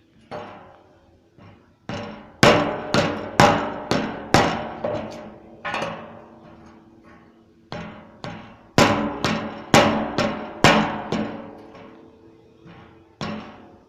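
Repeated heavy hammer blows striking metal while building a wood-vinegar kiln, sharp ringing hits in bursts of five or six with short pauses between groups, no talking.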